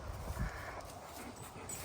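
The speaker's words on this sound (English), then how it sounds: "this is our new dog, Rain." A scared new female dog adopted from a pound makes faint, brief sounds, a soft whimper or shuffle, close by in an otherwise quiet setting with no talking.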